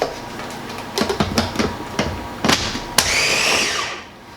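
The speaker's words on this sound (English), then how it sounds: "So we'll mix those up first in this blender." A kitchen blender mixes sweet peppers for a savory sauce. A few short pulsing bursts are followed by a brief steady whirring run, with no talking.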